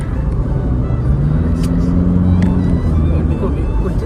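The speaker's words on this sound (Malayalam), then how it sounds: "വണ്ടി സ്പീഡ് കയറുന്ന അറിയുന്നില്ലല്ലോടാ." A car accelerates after being switched into sports mode, its steady low engine rumble and road noise running throughout as people talk inside the cabin.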